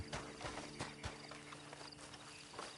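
Faint, steady clip-clop of a horse's hooves walking in Red Dead Redemption 2, heard alone with no talk.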